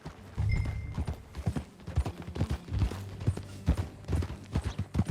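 Horse hooves clip-clop in a steady trotting rhythm in the video game Red Dead Redemption 2, close and fairly loud, with a low background hum.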